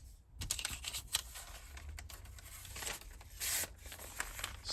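A Miguron Moyarl knife slices through folded paper in a series of close, quiet, scratchy strokes and tearing rasps, with no talking.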